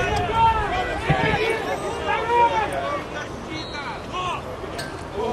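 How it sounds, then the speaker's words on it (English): Arena crowd at a Hungary versus Russia water polo world championship match lets out a continuous swelling groan and murmur after a shot rings off the post, dense babble sustained throughout with a few louder rises. "You hear the crowd groan."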